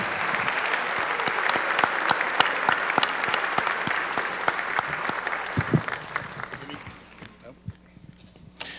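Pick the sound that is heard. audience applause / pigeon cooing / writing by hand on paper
audience applause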